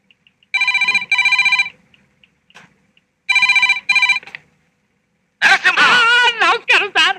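Telephone bell ringing in two double bursts of loud electronic trills separated by silence, followed by a voice speaking.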